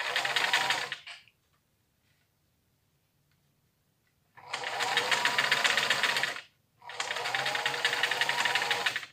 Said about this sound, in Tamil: தைக்கிறேன்.